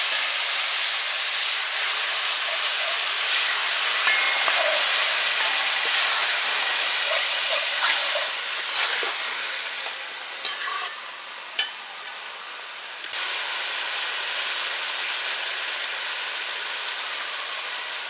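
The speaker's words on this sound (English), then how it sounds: "And now you bunje the masala." Masala fries in hot oil on the stove for a beef curry, giving a continuous loud hiss and sizzle that holds steady from start to end with no talking.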